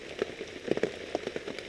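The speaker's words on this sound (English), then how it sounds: "It started to rain here, and there's a really good chance that it's going to rain all day long." Rain patters on a surface outdoors during a deer hunt in bad weather, with an irregular series of distinct drops over a steady soft wash, close and moderately loud, no talk.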